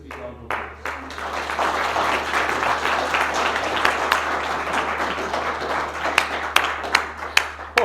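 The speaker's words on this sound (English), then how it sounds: "I'm now encouraging our guests maybe to give the delegates a big round of applause." A room of guests breaks into a big round of applause for the delegates at a Dyna Core event. The clapping swells into a sustained roar and then thins out into a few loud, separate claps near the end.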